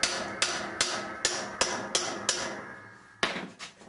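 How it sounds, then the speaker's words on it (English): Hammer blows on a tool fitted to a Maytag washing machine's brake assembly, turning it counterclockwise to loosen it: about nine sharp metallic strikes in a steady rhythm, each ringing briefly, with the last few closer together. "Hold the tool and hit it with a hammer on a counterclockwise direction to loosen up the brake assembly."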